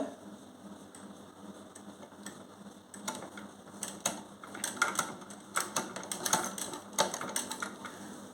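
A sewing machine stitches the back pocket of a gents' trouser, giving faint, rapid mechanical clicking and ticking in uneven bursts that grow busier toward the end, with no voices.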